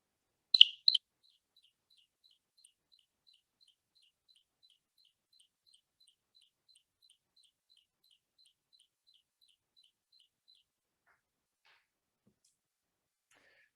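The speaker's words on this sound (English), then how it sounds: "Nediki also has a more common call that comprises repeated staccato chirps, similar to the clicks of desert cisticola" A Neddicky cisticola gives its common call, a long, even series of thin staccato chirps repeated steadily for about ten seconds, clear and isolated against a quiet background after two brief louder notes at the start.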